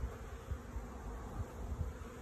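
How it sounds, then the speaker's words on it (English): Honey bees fly in and out of a busy beehive, making a steady, dense buzzing with soft low wingbeat pulses close by. No one speaks. "Look at how many bees are coming in and out of there right now."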